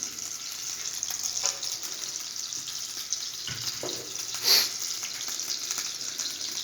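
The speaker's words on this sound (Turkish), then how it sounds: "Tereyağımız iyice bir yansın." Butter sizzles and fries in a hot pan in a busy kitchen serving Maraş-style kelle paça, a dense continuous crackle with a few clinks and stirring bumps, close and steady.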